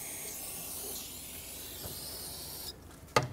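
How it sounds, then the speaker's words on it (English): A steady aerosol hiss of brake parts cleaner sprayed onto fuel injectors on a Ford Flex sprays for a few seconds, then drops off, followed by a short sharp knock or click near the end. "I'm gonna spray brake parts cleaner"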